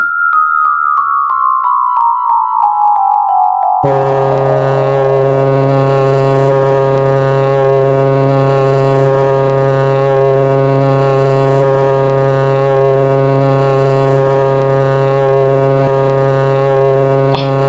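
Loud, sustained horn blast imitating a shinga being blown, preceded by a falling tonal call, droning steadily and evenly throughout with rich harmonics.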